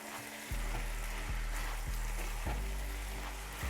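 A pot of spices for pickled jalapeños (whole cloves, black pepper, bay leaves, oregano and thyme) sizzles steadily, with a few rhythmic scraping stirs recurring every half second or so, close and moderately quiet.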